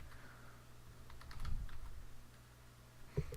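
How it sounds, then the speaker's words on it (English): Someone types a short word on a computer keyboard during Minecraft play: a quick cluster of light clicks in the middle, then one sharper tap near the end, over a quiet hum. "So I'm going to type in the word smeltery"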